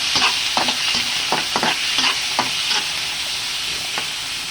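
Chicken gizzards sauté in a pan for mung bean stew, with steady hissing sizzle and repeated scraping and stirring strokes of a utensil, close and fairly loud, no talking.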